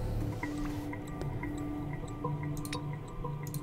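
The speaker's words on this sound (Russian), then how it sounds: "Нет, вода идет." Water dripping and trickling in the Machinarium puzzle game, with steady small drips and a soft liquid burble repeating over a low running-water bed, alone without talk.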